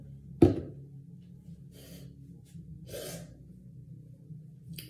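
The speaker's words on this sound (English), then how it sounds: "rubbing off this makeup" Makeup being rubbed off skin: a sharp close scuff opens, then a few soft, breathy rasping strokes follow at spaced intervals over quiet background.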